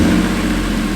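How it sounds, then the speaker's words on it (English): Engine of a BMW E46 M3 with a modified intake, a loud, close, deep steady drone of the running motor, heard alone. "I want to start it up and see what it sounds like before it gets dark"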